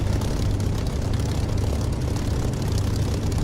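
In the DCS flight simulator, a propeller aircraft accelerates down the runway for takeoff with a steady, loud engine and propeller drone that holds even and unbroken throughout, no voices over it.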